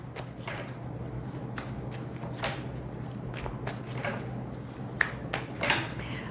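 Tarot cards are shuffled repeatedly up close, making soft riffling swishes and light slaps in an uneven rhythm over a low background hum.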